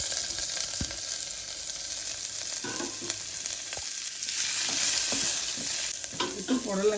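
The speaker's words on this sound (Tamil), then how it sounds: "கொஞ்சம் சீரகம் போட்டுக்கிறேன். வெங்காயம் போட்டுக்கிறேன்." Cumin seeds and a single onion, added after garlic, frying in hot oil in a pan for a spinach and snake gourd lunch dish, with a steady close sizzle, occasional stirring clinks and scrapes, and no talk.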